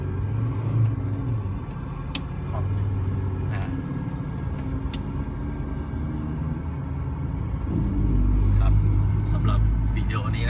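Low engine rumble from a Ford Ranger 3.2 pickup running on an NGV gas kit as it gently accelerates, steady and close, swelling toward the end, with someone talking over it.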